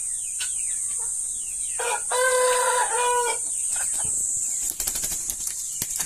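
A rooster crows once, loudly and close, among scattered clucks from chickens on a poultry farm, over a steady high-pitched background hiss.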